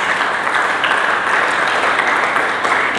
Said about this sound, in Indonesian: Berikan tepuk tangan dulu bagi Yesus.